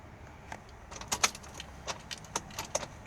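A bunch of car keys jangles in the ignition of a Ford, with a few light metallic clinks and rattles scattered across a quiet background inside the vehicle.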